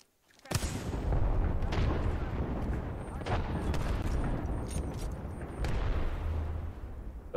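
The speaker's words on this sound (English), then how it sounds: "Those might have been the shots I heard." Heavy gunfire and explosions in a battle-royale video game, a sustained dense barrage that starts abruptly and rumbles loudly throughout, with voices talking over it.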